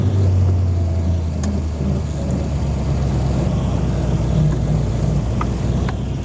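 A 1937 Ford two-door sedan with a flathead V8 and an upgraded intake manifold and carburetor drives along, its low engine drone steady and loud throughout with no talking.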